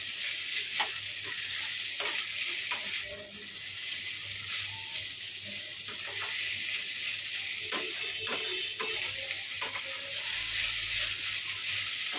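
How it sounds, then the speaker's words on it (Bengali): Chow mein with capsicum being stir-fried in a pan, a constant close sizzle broken by repeated scraping stirs and clacks of the utensil, no speech. "ভালো করে ভাজছি চাউমিন"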